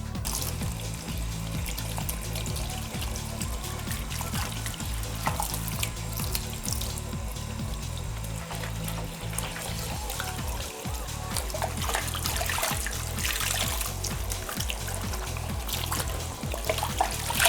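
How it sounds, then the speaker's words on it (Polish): Lukewarm water runs from a salon tap and splashes steadily while hair is rinsed before shampooing after non-oxidative dye colouring, a continuous close spray and trickle with rhythmic low thumps of water hitting. "Włosy spłukujemy letnią wodą, następnie myjemy dwukrotnie specjalnym szamponem."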